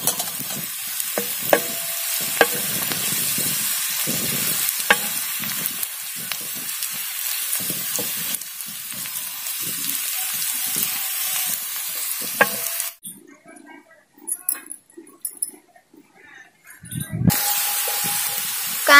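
Onion frying with curry leaves in a pan for tawa pulao, a loud, steady sizzle with occasional stirring taps, dropping to a much quieter, sparser crackle for a few seconds before the full sizzle returns.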